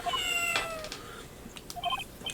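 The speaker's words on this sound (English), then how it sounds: "that sounded like a cat." Cat meowing in the video game Phoenix Wright: Ace Attorney Justice For All, a couple of clear, fairly loud meows with rising and falling pitch, alone with no talk.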